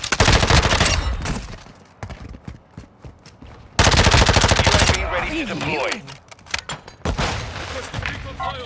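Machine gun fire in the video game Modern Warfare 2, loud rapid bursts that come in several separate volleys with short gaps between them, while voices talk over parts of the firing.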